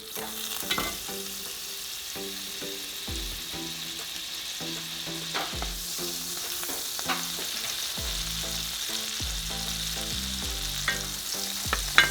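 Butter sizzling steadily in a frying pan used for enchiladas de camarón, a continuous hiss with occasional stirring scrapes under a background of soft music, no talking.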